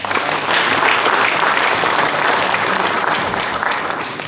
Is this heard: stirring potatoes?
no